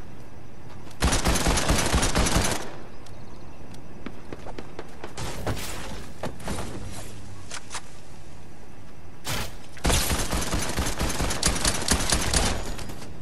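Rapid gunfire in the Fortnite battle royale game: two loud, dense bursts of automatic shots, early and late, with scattered single cracks and thuds between them. No voices.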